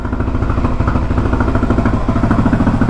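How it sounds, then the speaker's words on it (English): Suzuki DRZ motorcycle engine idles steadily after a jump start, a close, even single-cylinder chug with light mechanical clatter and no talking. "It's been idling for about a minute while I put the panel back on."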